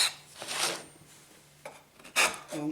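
A chisel is sharpened on a spinning MDF wheel: short, quiet rasping bursts of contact separated by pauses, close by with a faint motor hum underneath.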